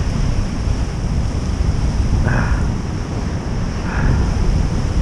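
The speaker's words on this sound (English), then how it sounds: "Sitting on some rocks, watching the waves come crashing below you." Ocean waves crashing on rocks below a coastal hiking perch at Beach Four, a steady roaring wash of surf with wind buffeting the microphone and two brighter surges.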